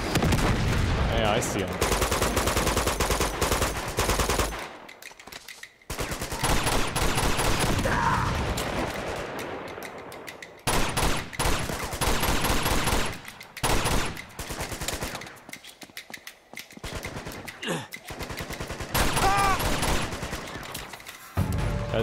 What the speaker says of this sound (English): Okay, who's shooting the rockets?